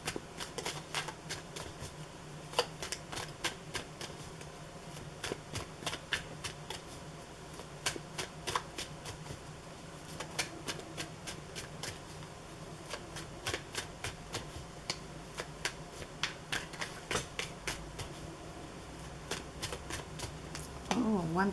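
Tarot cards are shuffled by hand in a long run of crisp, repeated riffles and snaps at close range, with one card flipping over partway through.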